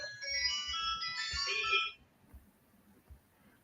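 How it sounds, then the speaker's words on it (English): A phone rings with a bright, melodic ringtone that plays loudly for about two seconds during a live interview broadcast, then cuts off, leaving quiet background with a few soft knocks. "One phone rang"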